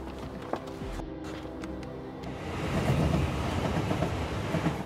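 A passenger train rolls along the rails in an action film, its steady rumble and clatter growing louder partway through, close and continuous with no voices.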